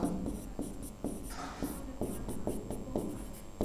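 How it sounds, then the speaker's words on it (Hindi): Rapid rhythmic writing strokes on a board during a Class 12 physics lesson on capacitors, with quick taps and scrapes at an even pace, close and clear, with no talking. "तो हम यही लिखेंगे कि समांतर"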